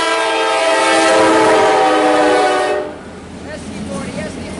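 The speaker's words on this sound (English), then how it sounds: "Look at this train." A CSX Q277 empty autorack freight train led by five locomotives passes close and loud, its horn sounding as a long steady blast before cutting off, leaving the rumble of the passing cars.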